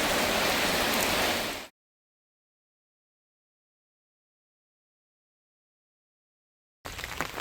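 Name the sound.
rain falling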